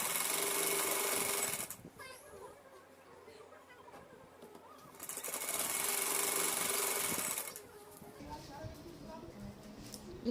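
A sewing machine stitches a folded half-inch hem on a gown in two bursts, each running a few seconds, separated by a quieter pause of fabric handling.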